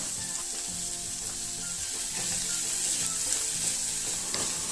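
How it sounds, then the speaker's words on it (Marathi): Chopped onion sizzles loudly and steadily in hot oil with cumin seeds, a continuous crackling fry with occasional stirring scrapes. "आता जिरे तडतडल्यानंतर त्यामध्ये मी कांदा घालते आहे।"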